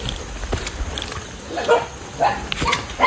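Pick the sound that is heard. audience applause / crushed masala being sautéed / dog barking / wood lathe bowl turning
dog barking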